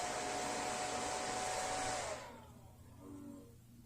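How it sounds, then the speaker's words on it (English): An HP Pavilion A1000y desktop's CPU fan roars up loud and steady with a broad whoosh for about two seconds, then drops sharply to a softer, lower hum that lingers to the end. "Did you hear that? That was the CPU fan."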